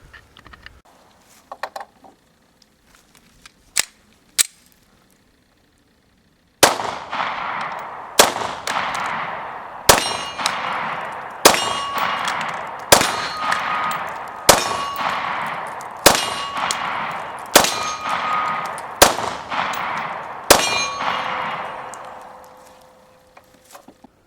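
An FMK9C1 pistol fires CCI Blazer 124 grain aluminum-cased rounds at steel targets: about a dozen loud, evenly spaced shots, each followed by a ringing clang, after a few quieter clicks and handling noises at the start.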